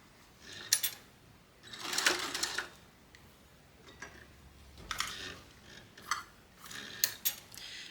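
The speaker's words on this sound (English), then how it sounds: "I'm going to continue sewing until I get to my seam" Home sewing machine stitching a wristlet strap, short quiet bursts of rapid mechanical stitching separated by pauses, close and faint, with no talk.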